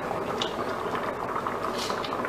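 A pot of Jamaican rice and peas with thyme and scallion simmers on the stove, a continuous soft bubbling and popping heard up close at low volume.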